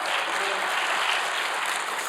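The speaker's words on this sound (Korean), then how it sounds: "우리 한번 하나님께 영광의 박수 합시다." Continuous applause from a church congregation during a live Korean worship service, a dense, steady wash of many hands clapping together at close range with no pauses.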